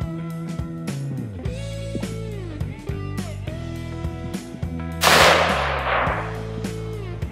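A single sharp report from a Weatherby VAC rifle chambered in 6.5 Creedmoor bursts out midway and trails off briefly over steady background music.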